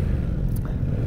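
A Yamaha MT-07 sport motorcycle's rear tire spinning on a slick, mossy bridge while off-roading, a steady low engine drone with a rough, scraping texture, close and continuous.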